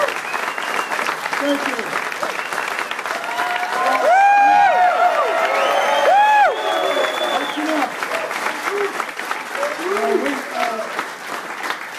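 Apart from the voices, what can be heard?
audience applause for a football coach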